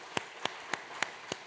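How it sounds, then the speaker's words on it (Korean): A church congregation at a Sunday worship service claps to welcome a visitor, five distinct, evenly spaced claps ringing out clearly against a quiet room. "박수로 한번 환영하겠습니다"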